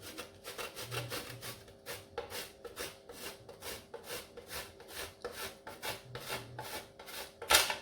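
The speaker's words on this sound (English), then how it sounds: "What I'm gonna do is get some chocolate and just grate it on the" Chocolate being grated by hand over a chocolate lasagna dessert, heard as a steady run of quick rasping strokes, close and fairly quiet, with a brief louder knock near the end.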